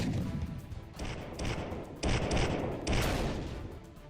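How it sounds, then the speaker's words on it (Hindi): Bombing from Russian strikes on Ukrainian bases: a series of heavy, distant-sounding explosive booms, about four large blasts roughly a second apart, each with a long rumbling tail over constant background roar. "रूस ने बिना देरी किए इन अड्डों को बमबारी में निस्ते नाबूद कर दिया।"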